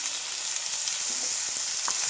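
Finely chopped onion with cumin frying in a pan, a steady close sizzle with light crackles and faint stirring, no voices.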